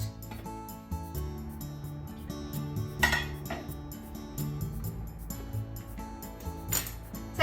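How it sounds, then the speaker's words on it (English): A metal lid clatters onto a pot of onion miso soup, surrounded by clinks and knocks of cookware and utensils, with two louder clanks standing out against a steady low background and no voices. "Put the lid on and cook it over medium-high heat until onion is nice and soft."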